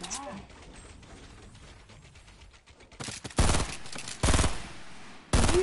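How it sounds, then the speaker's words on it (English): Rapid bursts of silenced SMG fire in the video game Fortnite, three loud clustered volleys in the second half, following quieter game noise with voices talking over it. "Did you use a silenced SMG?"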